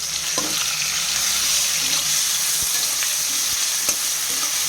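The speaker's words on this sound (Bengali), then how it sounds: "এবার নাড়িয়ে দিতে হবে।" Tomatoes, cumin seeds, whole garam masala and grated ginger fry in a pan for a chhanar dalna curry, sizzling steadily and loudly with a few scraping stirs of a spoon, no voices.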